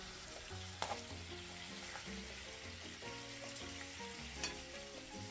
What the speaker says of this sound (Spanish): Una vez que agregamos toda la carne, la vamos a freír 5 minutos de cada lado.